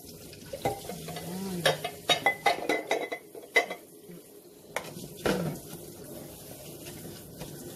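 Adobo cooking in a home kitchen: a metal utensil scrapes and clanks against a pot in bursts of stirring over a low sizzle, close and fairly loud, with no talking.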